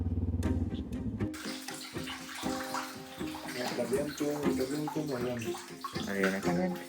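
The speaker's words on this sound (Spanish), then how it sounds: "Efectivamente, el agua sale fría." A tap runs in a large, clean campsite bathroom in northern Norway, a steady gush of cold water under a person speaking close by.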